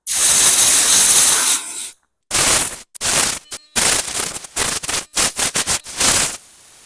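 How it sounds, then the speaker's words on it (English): A loud burst of compressed air from an air gun hisses steadily while cleaning debris off a 1999 Suzuki RM125 air filter, then comes in a series of short, sharp blasts separated by brief silences. "I'm just going to spray all the debris off of it."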